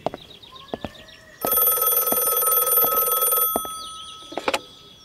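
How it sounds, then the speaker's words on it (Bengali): A hotel room telephone rings in one long, bright electronic trill lasting about two seconds, set among soft clicks and small room sounds, with a brief sharp tone near the end. "হোটেলের ঘরের ফোন বেজে ওঠে"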